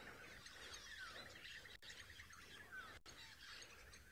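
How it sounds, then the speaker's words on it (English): Faint chirps and calls from wild birds out in the bush on a safari drive, soft and distant over a steady outdoor hush. "I'm sure you can hear all the birds."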